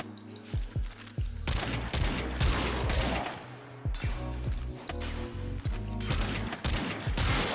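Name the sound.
shotgun secondary attack of Euphona Prime firing in a video game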